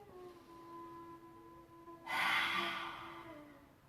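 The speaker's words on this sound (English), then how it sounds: "Lion's breath, tongue out the mouth." A forceful lion's breath yoga exhale with the tongue out, a loud breathy rush that begins after a quieter stretch with a faint steady hum beneath and fades out over about two seconds.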